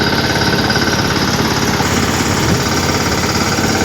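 A tractor engine chugs steadily and loudly nearby, a continuous throbbing rumble with no pauses or voices.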